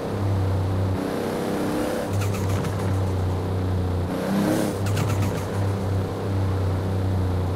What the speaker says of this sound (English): That sounds just like a Supra. Blow-off valve, man.